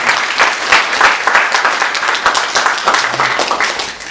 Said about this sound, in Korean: 다 같이 또 박수로 다시 한번 축하드립니다.